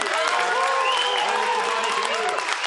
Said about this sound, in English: round of applause for Mr. Cliven Bundy.